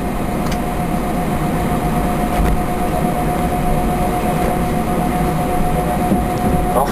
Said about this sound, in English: this looks like a Trijet Falcon just taxiing onto the NEA apron